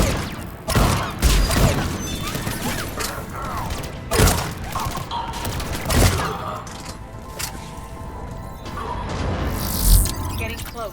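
Cannons firing in the Mass Effect 3 Omega mission: heavy booming shots and cracking impacts land every couple of seconds amid mechanical clatter, with characters talking in between.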